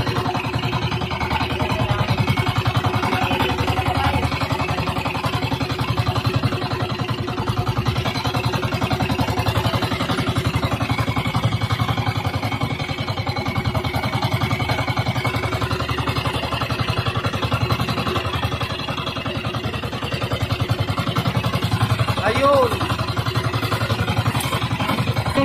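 A small fishing boat's engine runs steadily throughout, a continuous loud mid-range drone with clattering mechanical texture and no pauses.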